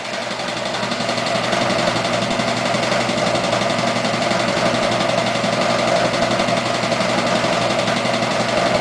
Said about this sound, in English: One of the discoveries is the compressor's running